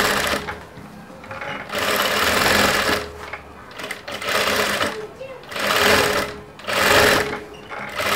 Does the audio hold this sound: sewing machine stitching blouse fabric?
yes